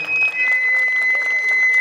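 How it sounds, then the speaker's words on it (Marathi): A crowd at a village primary school's annual gathering claps loudly for a short burst, the clatter mixed with a sustained high electronic tone. "जोरदार टाळ्या होऊ द्या"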